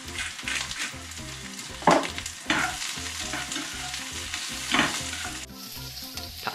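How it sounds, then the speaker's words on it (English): Onion sizzles and crackles in a hot pan, a continuous frying hiss with occasional louder spatters and stirring clatter. "Pasta boiling nicely, onion sizzling nicely."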